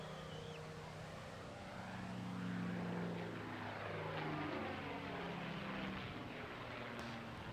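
A Spitfire Mark 9 propeller fighter, painted in desert camouflage as EN152, drones past at an air show, its engine note rising and falling gently as it moves across the sky, moderately distant.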